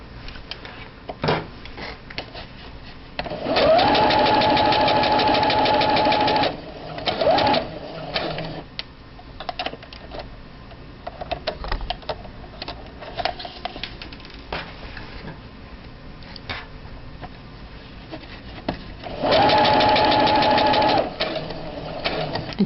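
A sewing machine stitches a French seam in fabric, running in two loud, steady whirring bursts of a few seconds each, separated by quieter handling clicks and rustles up close.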